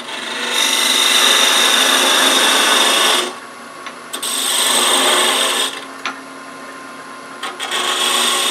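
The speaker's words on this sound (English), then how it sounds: "Come back another half apart so the parting tool doesn't get too much friction in there." A spinning wood lathe whirs while a parting tool scrapes and rasps against the turning wooden ornament piece in long strokes, with brief pauses between cuts.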